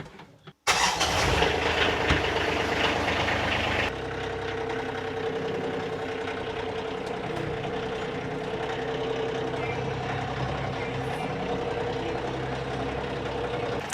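A tractor engine roars to life after a brief quiet start and then runs loudly and steadily near the listener, a continuous low rumble with no speech audible over it.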